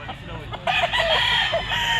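A Maclean street breed rooster crows once, close and loud, the drawn-out call starting after a brief lull and holding to the end.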